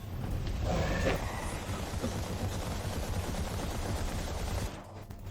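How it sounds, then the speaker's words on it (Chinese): Sustained bursts of rapid machine-cannon fire in a sci-fi apocalypse audio drama, a dense rattling barrage that swells early, stays continuous and loud, then cuts off abruptly near the end. "麻烦你的机炮火力压制"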